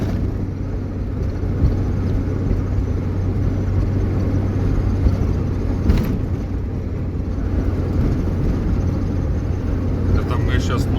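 A car drives at night through a blizzard on the road between Novy Urengoy and Nadym, giving a steady low engine and road rumble with a person talking over it.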